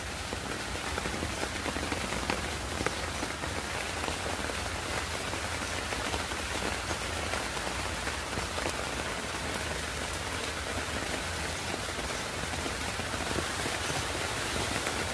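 Steady rain drums on a rooftop where lemon, rose and butterfly pea plants grow, a dense, even patter with close droplet hits running unbroken throughout and no voices.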